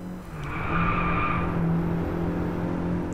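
A car drifts through a long bend in the racing game Driveclub, tires skidding in a loud sustained squeal over the engine's steady drone, close and continuous without speech.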